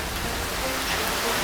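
Heavy rain from severe tropical storm Kristine pours down steadily on a soaked road, a dense continuous hiss with no talking.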